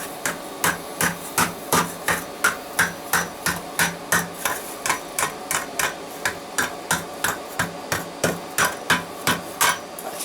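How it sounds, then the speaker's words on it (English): Hammer blows doming the back of a coal shovel at a blacksmith's forge, a steady run of sharp metallic strikes in an even rhythm, loud and close with short ringing decays. "Okay, so we're going to start here by doming the back."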